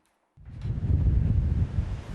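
Strong storm winds battering the Blackpool seafront promenade during a named storm: a sudden, loud, low roaring rush of wind noise that begins after a brief silence and stays sustained and buffeting.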